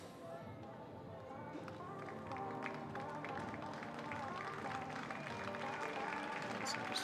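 Spectators cheer a para rower from a few lanes across at a rowing regatta, steady crowd noise and shouts with a commentator talking over it.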